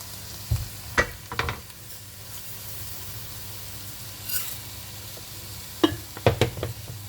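Brown rice tipped into a pan of sizzling minced meat, with a soft continuous frying hiss and a few close scraping, clattering stirs near the start and end.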